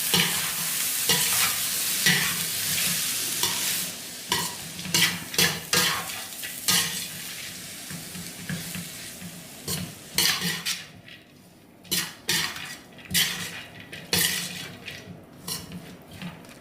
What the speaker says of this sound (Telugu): ఇప్పుడు ఉడికించి పెట్టుకున్న ఈ క్యారెట్ని వేసుకుందాం. ఇప్పుడు స్టవ్ ఆఫ్ చేసుకొని మనం కలుపుకోవాలి.